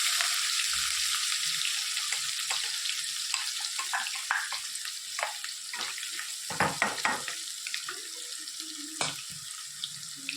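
Green chillies and green garlic crackling in hot oil as the tempering for vaghareli khichdi, a close hiss with scattered pops and spatters that grow busier toward the end, with no voices.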